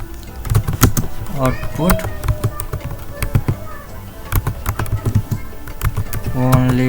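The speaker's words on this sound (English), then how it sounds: "and then we type" Fingers typing on a computer keyboard, quick irregular clusters of close clicky keystrokes with short pauses, interleaved with a person speaking.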